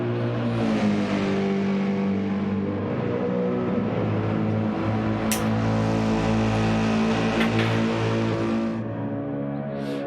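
A GT3 race car in a racing game at Suzuka holds a steady, loud engine note with layered harmonics. It revs gently through the clip and has a couple of brief sharp clicks near the middle.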